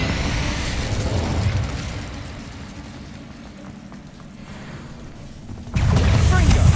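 A fiery blast from a spell cast in the Hogwarts Legacy video game: a dense, roaring rush that eases off mid-way, then a loud, heavy burst erupts near the end amid continuing combat noise.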